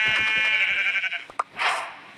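Sheep in Minecraft Pocket Edition give a few short, nasal bleats. The bleats sit close and clear at a moderate level, followed by a brief soft whoosh, with no speech.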